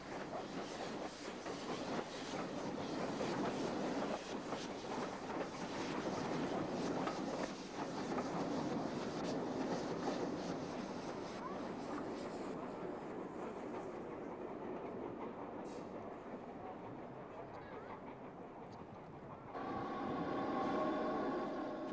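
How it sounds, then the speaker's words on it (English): A 7mm O gauge model British mixed goods train, a loose-coupled Great Western 2-8-0, rolls steadily from lower sidings with a continuous rumbling, clattering run that thins out near the end before picking up again. "From the lower sidings we can see a typical British mixed goods train emerge."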